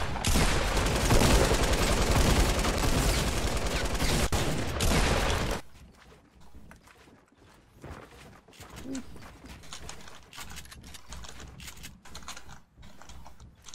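Rapid gunfire from the battle royale game Fortnite Battle Royale crackles loud and dense for about five seconds, then cuts to quieter scattered game noise and faint sounds.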